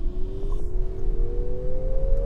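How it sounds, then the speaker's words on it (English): A 2023 Nissan Ariya electric car launching hard in sport mode gives a rising electric motor whine that climbs steadily over low road and tyre rumble, with no talking. "So Ariya, we're in sport mode now and we're gonna take it for a little launch here"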